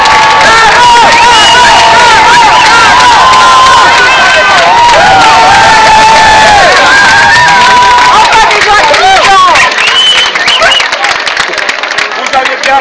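A crowd at a public meeting about dogs in the canton of Vaud applauds and cheers loudly, a dense wash of clapping and voices that fades toward the end.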